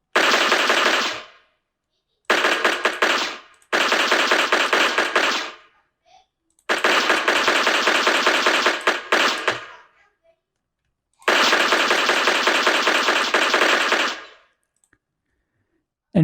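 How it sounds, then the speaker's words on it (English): Rapid automatic gunfire from a NetLogo video game plays in several loud bursts of a second or more, separated by short silences, with one long sustained burst near the end. "So here now we can hear the gun sounds."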